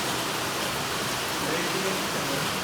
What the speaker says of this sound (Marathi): पाऊस बघा, एवढा पाऊस सुरू आहे